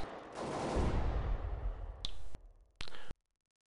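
Gunfire and grenade blasts from a Counter-Strike match: a loud burst of explosion and rapid shots opens, followed by two sharp, distinct gunshot cracks, then abrupt silence.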